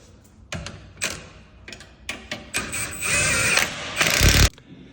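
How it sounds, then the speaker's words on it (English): Nut being tightened onto a shock absorber bolt during a BN F3x/F8x drag shock install: ratchet clicks and metallic tool knocks build into a sustained buzzing tightening run, close and moderately loud, with no talking. "then you can put the nut back on the bolt and tighten it down"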